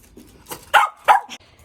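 A dog gives two sharp, close barks with a small yip after them, over near silence.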